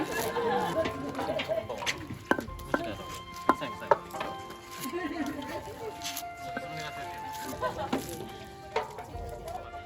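A wooden kine hammer kneads steamed mochi in a stone usu mortar, making dull, irregular thuds and soft squishing presses, with birds chirping outdoors and people talking in the background.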